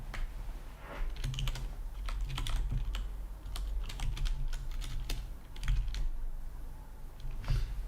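Someone types on a computer keyboard at close range in a steady, uneven patter of quick clicks with brief pauses and occasional heavier keystrokes, over a low background hum.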